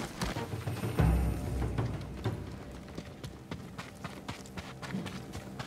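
Horse hooves clip-clop in the Ghost of Tsushima video game, a run of close, rhythmic thuds and knocks with a heavier impact near the start, continuing at a steady pace.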